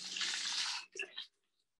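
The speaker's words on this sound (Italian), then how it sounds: "Gli aggiungo la mia acqua calda." Hot water poured from a container onto chocolate for gelato, a brief close splashing pour that stops abruptly, followed by a few small trickles and drips.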